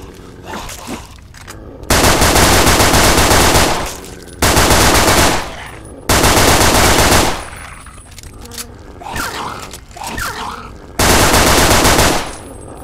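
Loud automatic gunfire from Fallout 3 rips out in four sustained bursts of a second or two each, separated by quieter game ambience.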